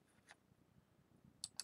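Handling a proof Lincoln cent into an acrylic flip makes a few sharp, faint plastic clicks and snaps, one early and two close together near the end, over near silence.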